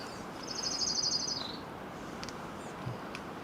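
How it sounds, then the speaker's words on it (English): A single bird trills briefly beside a trail near a reservoir, a short high buzzy phrase lasting about a second, faint against steady outdoor ambience with a few faint chirps after. "Just stand here and listen to the birds"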